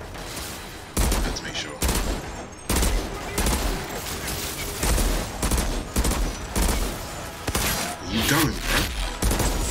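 Legendary weapon fire in the shooter game Outriders, with loud rapid bursts of gunshots repeating across the whole stretch, close and dense, while someone talks briefly between volleys.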